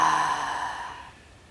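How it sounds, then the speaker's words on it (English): A single long, breathy exhale of Ujjayi yoga breath, done on a trampoline, with a soft throaty rush that fades out gradually over about a second, close and alone. "we cultivate Ujjayi breath, something bigger happens than just having a workout"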